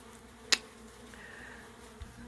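Honey bees around a backyard hive inside a house tent, with a faint, brief buzz passing close, a sharp tap just before it and quiet surroundings.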